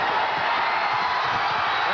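A packed arena crowd roars in continuous, loud cheering as UMass clinches its third straight Atlantic 10 Conference Tournament basketball title in Amherst, with whoops and shouts blending into a dense, unbroken wall of sound.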